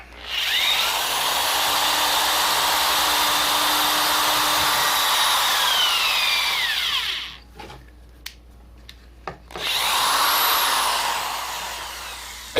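A power drill whines steadily for several seconds, cuts out with a few clicks and knocks as the bit gets stuck, then revs up briefly again.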